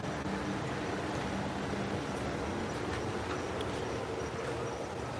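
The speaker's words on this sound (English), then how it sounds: "Oh, monorail." A monorail train rolls past on an outdoor walkway, a steady broadband rumble and rattle holding at even loudness for the whole stretch, with no voices over it.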